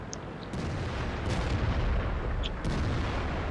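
Artillery guns fire in World of Tanks, a few sharp distant booms popping out over a steady rumbling battlefield din, with no talking.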